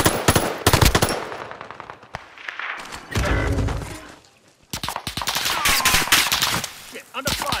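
Bursts of automatic rifle fire and single gunshots in a Call of Duty match, loud close volleys separated by short pauses, with a thud and renewed shooting later.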